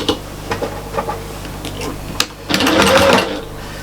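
A sewing machine stitches a fabric storage caddy, a short burst of fast mechanical whirring after light handling taps and clicks, heard close up, with a voice speaking nearby.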